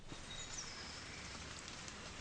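Steady spring rain falling outdoors near a restored pond on a country estate, a dense even patter that fills the whole stretch with no voices.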